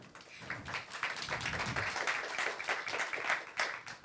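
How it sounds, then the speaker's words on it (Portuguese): Applause from the audience at a financial innovation and entrepreneurship seminar, a moderate, continuous patter of many hands clapping, somewhat distant. "Palmas para os nossos"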